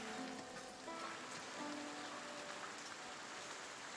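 Rain falls steadily in the video game Foundation, a faint, even hiss of drops with no breaks and no voices.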